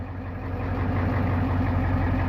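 Low, steady rumble of a Ford F350 7.3L IDI diesel truck engine idling nearby after air was bled from the fuel line, even and unbroken for the whole moment.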